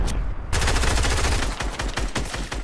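Video game gunfire rattles in rapid automatic bursts of loud, dense shots that run almost continuously, close and dominant with no talk.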